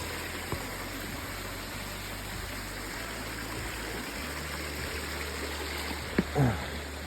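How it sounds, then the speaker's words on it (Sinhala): A forest stream flows in a steady, close rush of water along a trail, with a broad continuous wash and a few small knocks near the end. "වතුර පාරක් හම්බුණා අපිට."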